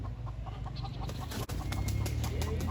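A rooster in Negril, Jamaica, gives soft, close clucks as it settles down for the night, short repeated notes over a steady outdoor background without speech.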